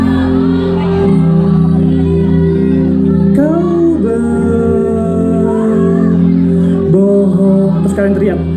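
A concert crowd at a show in Aceh shouts and whoops in bursts over steady loud band music, with voices rising and falling together through the song.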